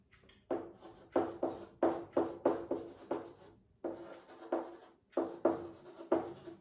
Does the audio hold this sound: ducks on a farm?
no